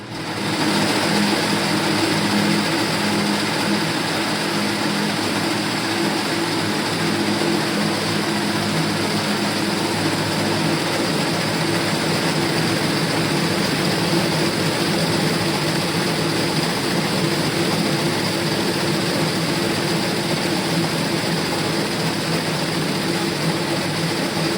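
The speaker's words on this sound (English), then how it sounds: "we're going to go ahead and press our start button a second time to begin the automatic braiding" A BraiderBot braiding machine runs its automatic braiding cycle with a steady, continuous mechanical drone and hum, unchanging and fairly loud for the whole stretch, with no talking.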